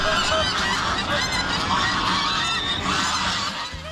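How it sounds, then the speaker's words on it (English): A crowd of feral geese at Western Springs honking loudly and continuously, many overlapping calls close by. "Gaggles of feral geese are the first thing you see or hear upon arrival at Western Springs."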